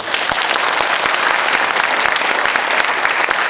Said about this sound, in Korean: 그 점에서도 박수 한번 쳐주세요.